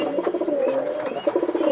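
Pigeons coo in a cage at a pigeon farm, a run of close, throaty, rhythmic coos that rise and fall continuously with no talk over them.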